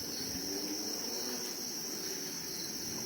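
Crickets at a cricket farm in Desa Adat Lepang, Klungkung, Bali, a dense continuous high chirping chorus, steady and fairly loud over faint low background noise, no talk.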